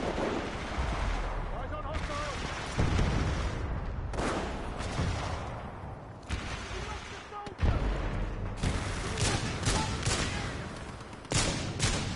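Sniper rifle fire in Titanfall 2, with about five loud, sharp shots at uneven intervals, each followed by a booming tail, over a steady game background.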